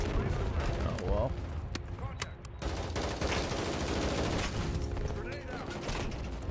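Heavy automatic gunfire in the Modern Warfare closed beta crackles steadily in sustained bursts at moderate loudness, overlapping with game radio chatter and a player talking.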